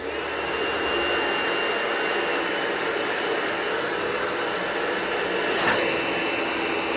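A blow dryer on hot heat runs steadily with a constant whirring hum and airy rush, loud and close, with a brief surge near the end.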